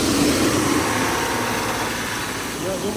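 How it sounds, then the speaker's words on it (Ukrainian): A BMW E39 car engine idles steadily and close by, a continuous low rumble with no clear start-up burst. "Запускайте агрегат. Будемо слухати заводку."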